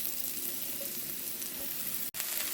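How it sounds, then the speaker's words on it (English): Mushrooms sizzle and fry in heated oil in a pan on a stovetop, a steady close hiss with a brief sharp click near the end. "Oil's heated, time to add mushrooms."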